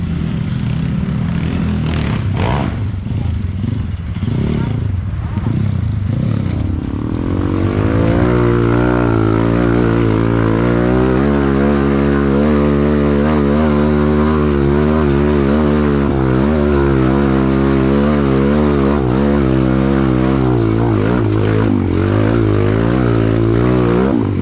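Kawasaki KLX trail motorcycle in standard trim climbing a steep dirt trail in first gear, its engine droning steadily and loud with a rising, labouring pitch that wavers as the throttle shifts, starting rougher before settling into a sustained pull.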